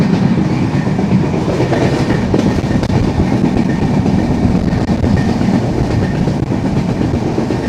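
Aboard the Panchagarh Express near the Jamuna bridge in light rain, a loud, unbroken rumble of wheels on rails fills the carriage, with a faint clickety-clack running through it.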